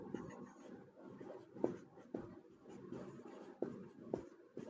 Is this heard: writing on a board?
yes